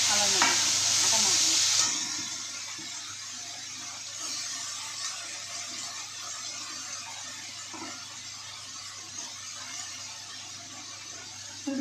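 Potato curry frying in a pan gives a loud, bright sizzle for the first two seconds, then settles into a steady, softer frying hiss with occasional stirring scrapes, and no voices.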